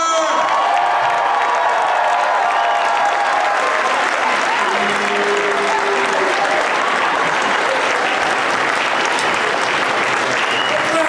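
A convention panel audience at Motor City Comic Con 2017 breaks into loud, sustained applause with scattered cheers and whoops for actor Michael Rooker, the clapping steady and dense throughout.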